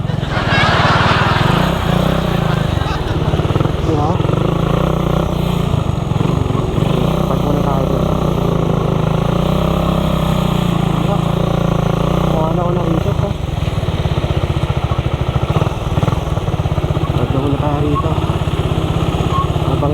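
Large motorcycle engines run loudly and continuously at close range, a steady rumbling drone with Filipino conversation over it throughout.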